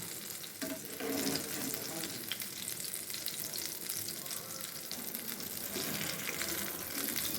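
Eggplant slices fry in hot oil with a steady, dense sizzle, with light stirring and a faint clink of utensils, close and continuous with no talk.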